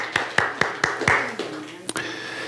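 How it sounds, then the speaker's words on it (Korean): A church congregation gives a short burst of applause, several sharp claps in quick succession at moderate distance, fading out before a brief sharp knock and quiet room tone. "박수합시다"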